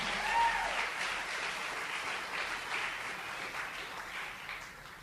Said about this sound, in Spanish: Dale otro aplauso al Señor de gloria.